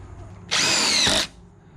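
A power drill drives a screw into wood joists in a single close, loud whir lasting under a second, over a quiet background.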